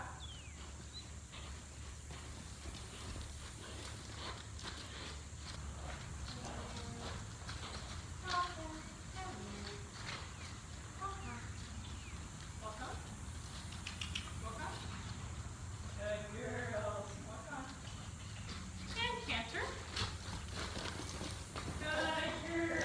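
A horse being lunged moves in a circle, and its hooves clip-clop in a quiet, steady rhythm at a moderate distance while a person speaks intermittently.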